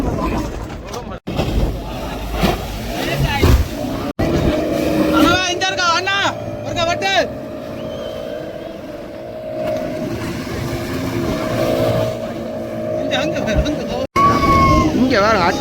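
Racing boats speed across the sea at Palaly, their engines a steady, loud drone throughout, with excited commentary and crowd chatter over it.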